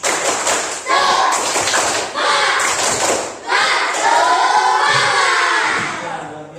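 Classroom students performing the tepuk semangat clapping chant, loud bursts of rhythmic group clapping interleaved with shouted voices in sections, with breaks between phrases, close and energetic.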